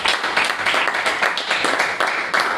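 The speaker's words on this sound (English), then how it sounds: "Please applause." Audience applause at a startup pitch competition event, greeting a jury member: dense clapping from a crowd, fairly close and loud, with individual claps standing out in the steady roar.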